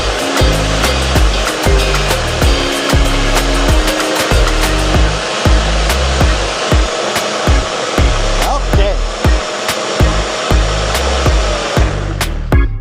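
A blender blending a smoothie whirs loudly at high speed, a dense, grinding roar with a rhythmic thumping that runs steadily throughout.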